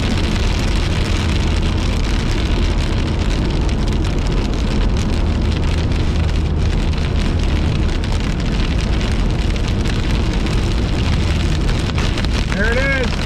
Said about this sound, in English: Just had pea-sized hail and big.